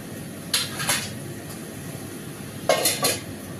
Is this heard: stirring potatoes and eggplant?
yes